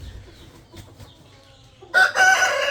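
A young fighting rooster of the Attock line crows once, loud and close, at the end of the clip after a stretch of faint low background noise.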